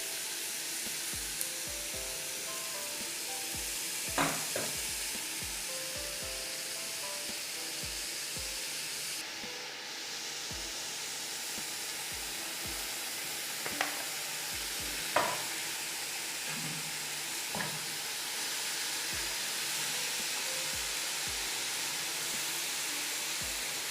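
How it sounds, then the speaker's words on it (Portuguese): Vegan kibbe filling with chopped greens stirred in a pan, a steady loud sizzle and hiss of frying throughout with scattered scraping knocks of the spoon against the pan. "Agora eu vou precisar das 2 mãos para segurar na panela para mexer isso aqui"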